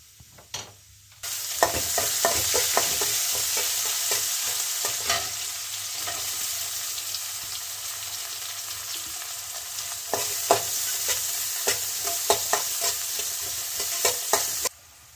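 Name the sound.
frying ginger, cashews and chopped ingredients after mustard seeds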